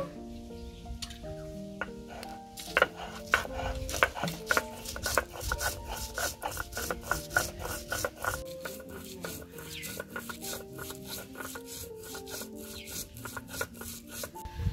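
Raw garlic and chili being ground into a paste on a stone, a steady run of quick, soft scraping and knocking strokes close by, with music playing underneath.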